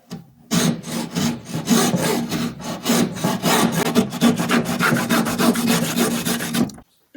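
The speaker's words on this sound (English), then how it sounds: "Bit of a sand off on the inside and the outside" Close, loud sanding of a fairing plug hole on a Sharpie sailboat build, worked with epoxy, as a fast rhythmic rasping of back-and-forth strokes that runs steadily for several seconds and then stops.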